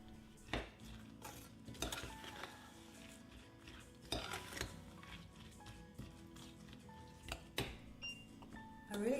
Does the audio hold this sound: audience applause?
no